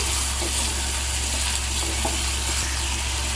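Curry leaves and small chopped green chillies sizzle steadily in hot oil, a continuous close frying hiss for a Konkani lunch dish, with no talking.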